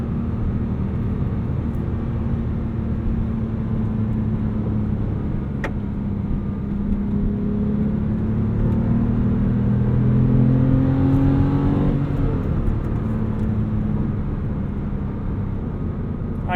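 A 2008 Porsche 911 Carrera's naturally aspirated engine runs in a steady low drone from the car, rising gradually in pitch as it revs up near the midpoint, then easing back, with no talk.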